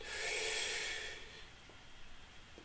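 During a group singing warm-up breathing exercise, one long, deep inhalation rushes in loud and close, then fades into quiet room noise.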